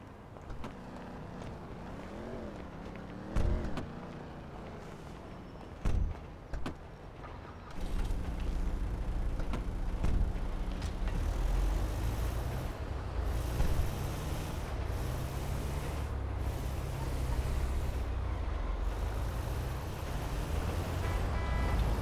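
A van drives through city streets in GTA V, its engine humming steadily alongside traffic noise, with a quieter, more broken stretch at first before a fuller, continuous road rumble sets in.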